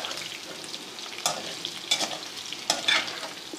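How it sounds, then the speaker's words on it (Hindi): Arvi (taro root) frying in ghee in a pan makes a soft, steady sizzle, with a few louder scraping stirs at intervals. No voices are heard. "तो 1 से 2 मिनट मज़ीद हम इसको फ्राई कर लेते हैं"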